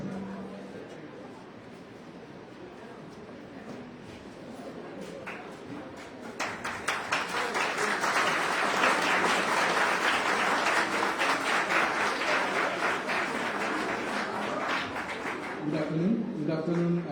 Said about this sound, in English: The clap was very long